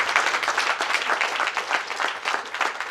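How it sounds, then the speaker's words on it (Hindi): An audience at a seminar in Delhi bursts into applause, a dense, steady burst of many hands clapping close by, filling the whole moment without talk. "मैं चाहूंगा विजय सर के लिए एक शानदार तालियां"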